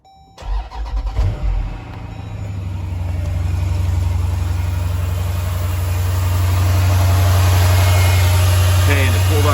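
A Jeep Grand Cherokee SRT engine cranks briefly with a few chugging pulses, catches, then settles into a loud, steady, close idle that runs to the end.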